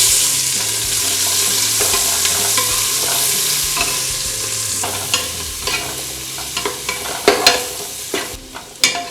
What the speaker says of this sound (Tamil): பெருஞ்சீரகம் பொரிஞ்ச உடனே இப்ப நம்ம வெங்காயம் சேர்த்துக்கலாம்.